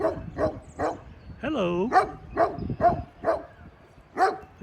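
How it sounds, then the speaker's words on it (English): A white dog at a farmhouse barks repeatedly in an even series of medium-distance barks with one drawn-out whining yelp mid-sequence, while a person briefly speaks. "Let's look at that dog."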